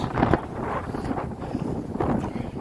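Cold wind buffeting a microphone on an Appalachian Trail mountain path lined with dandelions, a steady broadband rush with gusty swells, close and fairly loud throughout, no talking.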